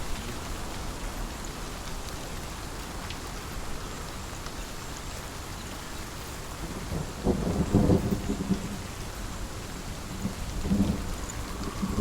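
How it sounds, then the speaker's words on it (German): Steady rain falls throughout while low thunder rumbles roll in partway through, rising to a deep, rolling boom before easing back into the rain, from the video game Hellblade: Senua's Sacrifice. "Ach, das Gewitter ist so geil."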